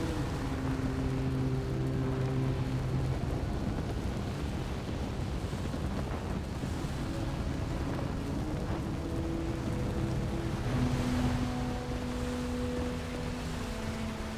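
A ship sailing on ocean waves in World of Warcraft Dragonflight, a continuous broad wash of water and wind rumble with faint creaks and tonal game sounds drifting through, steady throughout with no talk.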